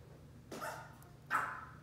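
A French bulldog gives two short, faint barks or yips about a second apart, heard indoors in the background with no talking.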